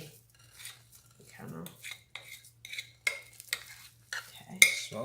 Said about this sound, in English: I'm going to pack it in. And you can use your spoon to kind of,